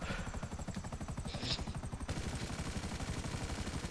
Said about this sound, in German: Ich fliege nur dämlich mit dem Helikopter rum.